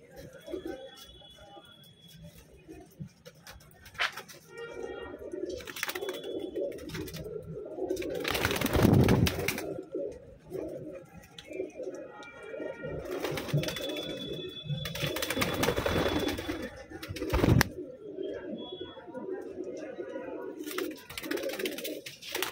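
Black pigeons kept for sale coo in repeated low, throaty bursts over several seconds, close and fairly loud, with someone talking in Hindi over and between the calls and occasional rustling and flapping noises.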